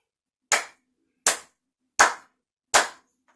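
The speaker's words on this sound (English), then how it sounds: "Let's go ahead and clap a rhythm." Four sharp hand claps in a slow, even rhythm, each a crisp isolated smack with clean silence between, close and clear, part of a copy-back rhythm exercise.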